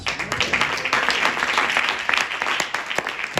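A church congregation bursts into dense, sustained applause, many hands clapping together loudly and close by for the whole stretch.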